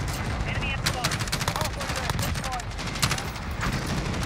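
ACR assault rifle fire in Modern Warfare, rapid bursts of sharp shots over a dense background of battle noise, fairly loud and sustained, with a player's voice talking at times.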